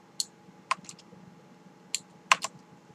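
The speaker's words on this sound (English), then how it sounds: "a little click that tells me the key press has been recognized by the keyboard" Sharp, isolated key clicks from a limited-edition Filco Majestouch mechanical keyboard with clicky Cherry MX Blue switches, about six crisp presses in irregular pairs, close and clear over a quiet background.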